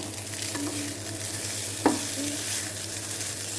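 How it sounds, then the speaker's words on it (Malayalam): Egg noodles and scrambled egg being stirred in a pan, a steady sizzle with soft scraping strokes and one sharper scrape partway through, close and continuous with no voices. "ഇനി നമുക്ക് ഇത് നന്നായിട്ട് നൂഡിൽസ് നന്നായിട്ട് മിക്സ് ചെയ്ത് കൊടുക്കാം കേട്ടോ എല്ലാം കൂടി"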